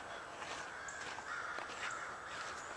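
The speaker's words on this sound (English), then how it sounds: "Listen, them crows going nuts though." Crows caw repeatedly at a distance in woods near old four-wheeler trails and a pond, harsh calls overlapping in a busy, agitated chorus with no talking.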